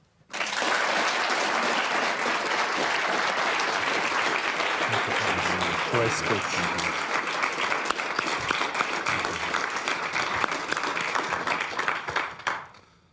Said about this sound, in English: I think you also heard from the warm applause